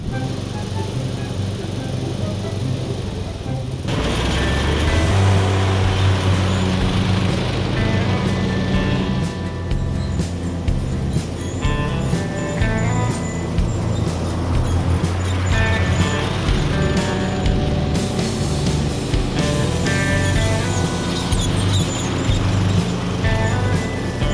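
A Husqvarna engine running after its governor has been adjusted, giving a loud, continuous close-up drone that steps up in level early on and then holds steady.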